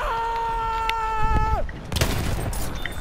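Shotgun blasts in an online video game ring out as a few sharp, scattered bangs over a steady tonal game sound that cuts off, with occasional voices around.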